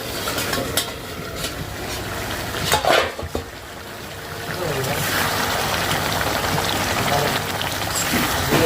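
Desi chicken and potatoes cooking in a pan, a steady wet sizzle and stirring scrape that swells partway through, with a brief louder clatter near the middle and a faint voice underneath.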